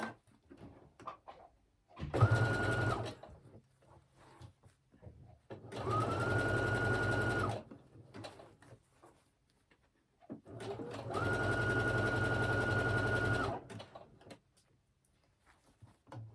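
Sewing machine stitching stretchy leggings fabric fed through slowly, three loud sustained motor runs of two to three seconds each, separated by quieter pauses with faint handling noise.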